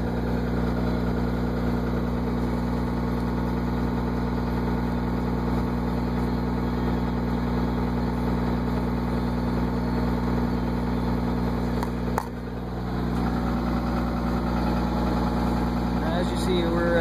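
A Cummins 24-valve diesel idles after a cold start, a steady, loud, close clatter with a constant low rumble, uninterrupted and with no talk over it.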